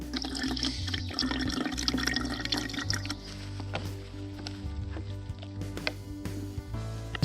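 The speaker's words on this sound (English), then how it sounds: "This is Halen Creek. I think I might get some water here." Cold, clear water of Halen Creek along the High Country Pathway in Michigan rushes and splashes close by in a steady burble, with small knocks and gurgles as water is collected.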